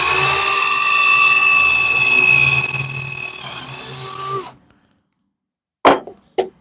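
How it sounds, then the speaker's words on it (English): A drill whines steadily as it bores into a piece of plywood for about four and a half seconds, then stops; two short bursts of the bit spinning follow after a pause of silence. "we're just going to drill a hole right in the center where I'm going to cut to"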